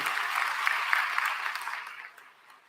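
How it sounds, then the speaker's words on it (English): Audience applause at a regional conference public meeting honoring an award recipient, a broad, even roar of many hands clapping that holds steady and then fades away toward the end. "Let's give a round of applause for Ms. Jorika Bess"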